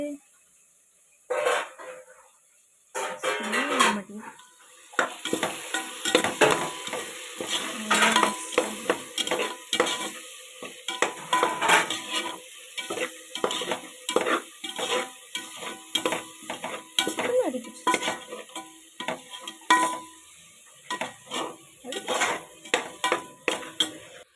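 A vegetable biryani mixture that is catching on the bottom of the pan is stirred, giving repeated close scrapes and clatters of a spoon against metal in irregular bursts, with pauses and a faint sizzle beneath.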